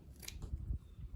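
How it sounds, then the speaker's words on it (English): Scissors snip a piece of white paper, a single quiet close crisp cut with a soft blade scrape, faint and alone. "So I'll snip off another piece,"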